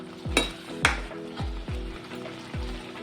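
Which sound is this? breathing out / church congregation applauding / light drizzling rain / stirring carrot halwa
stirring carrot halwa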